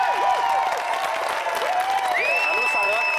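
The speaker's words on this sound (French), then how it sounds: "Je veux qu'on les applaudisse." Studio audience applauding the two participants of a French-language game show, a dense, steady wash of clapping with a tonal music line and swooping voices layered over it throughout.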